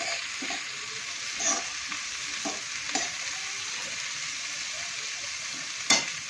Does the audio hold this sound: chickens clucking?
no